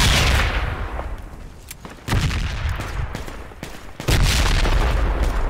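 Frag grenade blasts in a squad firefight, two heavy booms a couple of seconds apart, each followed by a rumbling tail, with scattered gunshot cracks between them and no talk.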